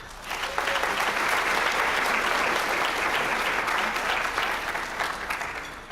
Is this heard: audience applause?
yes